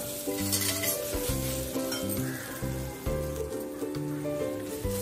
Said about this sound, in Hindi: इसको भी अच्छे से मिक्स कर लेंगे